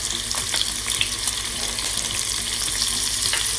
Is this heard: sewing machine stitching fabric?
no